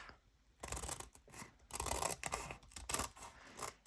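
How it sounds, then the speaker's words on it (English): Scissors snip repeatedly through the folded bottom of a paper lunch sack, a run of close, crisp crunching cuts with brief pauses between strokes. "keeping it folded, I'm going to just cut the bottom off"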